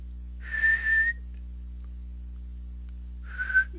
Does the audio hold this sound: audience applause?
no